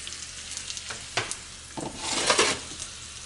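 Hot tempering of garlic and sesame seeds poured over spinach sabzi, bursting into a loud, close sizzle with sharp crackles that swells and fades over a few seconds, with no talking.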